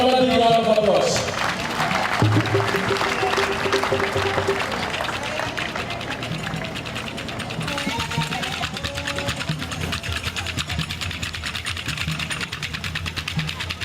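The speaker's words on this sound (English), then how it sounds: "let's give them another big round of applause" Continuous audience clapping runs throughout a Roots 2016 cultural program in Gambia, dense and even in texture, with a voice briefly audible at the start.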